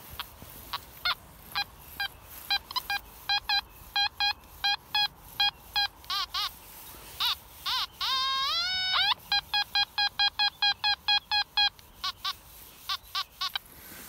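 Beeping tones from a metal detector sweeping a pasture repeat in short regular pulses, with one rising warbling run of tones partway through; no talk is heard.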